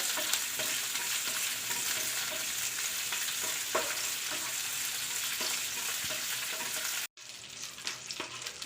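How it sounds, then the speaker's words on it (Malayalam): Raisins and cashews frying in hot oil while being stirred, a steady crackling sizzle up close with light spoon scrapes. The sound breaks off briefly near the end, then resumes more faintly. "മുന്തിരി അണ്ടിപ്പരിപ്പൊക്കെ നല്ലതുപോലെ മൂത്ത് വന്നിട്ടുണ്ട്"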